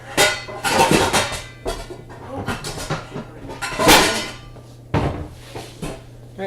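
Metal saucepans clank against each other as one is pulled from an upside-down stack in a home kitchen, giving a few sharp, close clatters and knocks spread over several seconds, with no talking.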